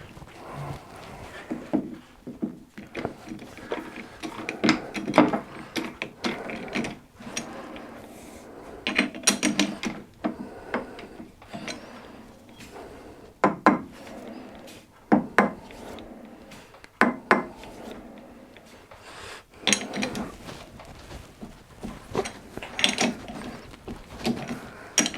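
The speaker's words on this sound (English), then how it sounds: "we'll skim the end of that, put a centre in, reduce the diameter down and then bore it to suit" A lathe machines a plastic workpiece, giving irregular bursts of scraping and cutting chatter over a low mechanical hum, with quieter gaps between passes.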